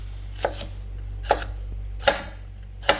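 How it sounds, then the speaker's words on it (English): A knife thinly slices bell peppers on a board for a chicken jalfrezi, four crisp separate cuts spaced under a second apart, close and clear over a low steady hum. "You thinly slice the peppers"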